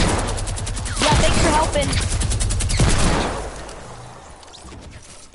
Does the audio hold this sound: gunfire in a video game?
yes